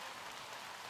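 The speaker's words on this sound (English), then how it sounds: "Despite this pouring rain" Steady pouring rain at a disc golf tournament, a dense even hiss of drops on surfaces filling the whole moment without a break.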